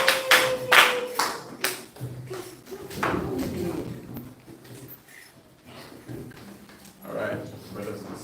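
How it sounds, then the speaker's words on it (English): A congregation gives a round of applause, a few sharp, scattered claps near the start that thin into sparse taps, with voices talking throughout. "Give Sister Vanna a round of applause."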